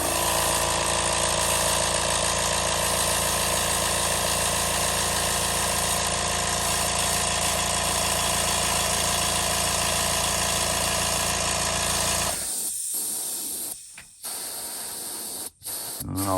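An airbrush sprays ink onto a fishing lure at low pressure, a steady close hiss with a compressor hum beneath, running continuously before cutting off abruptly, leaving quieter background with a few brief clicks.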